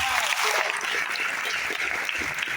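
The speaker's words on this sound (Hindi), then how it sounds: "जितनी तालियां बजी ना, वो दिल से बजी" Audience applause at a business plan presentation, a steady wash of many hands clapping close and loud, filling the whole stretch with slight swells and no pauses.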